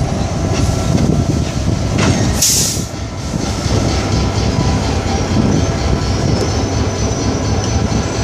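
A freight train rumbles past close by at night in a rail yard in Rochester, steady loud rolling and rattling of wagons with a brief hiss partway through.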